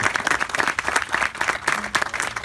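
An audience applauds at a medical school groundbreaking event, a dense, even patter of many hands clapping steadily throughout with a faint murmur under it.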